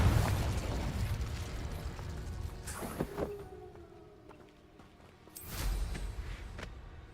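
A Confringo fire spell explodes in Hogwarts Legacy, a loud rumbling blast at the start that fades, followed by sharp cracks and a second heavy burst later, with no talking.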